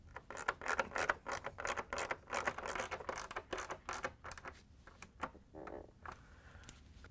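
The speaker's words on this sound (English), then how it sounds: "use the ratchet with the 1/4-inch socket to put the screws in" A ratchet with a 1/4-inch socket drives screws into a refrigerator ice-maker panel, giving quick rapid clicking and scraping bursts up close that thin out and stop toward the end.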